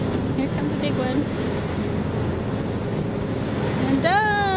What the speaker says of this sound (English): And some of these waves are kinda big. Here comes a big one.